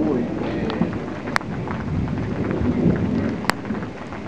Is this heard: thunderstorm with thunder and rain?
yes